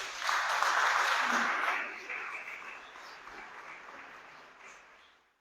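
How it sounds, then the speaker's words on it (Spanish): An audience at a university book presentation claps for a guest. Dense, close applause swells quickly and then thins and fades over several seconds until it stops. "Un aplauso para él, por favor."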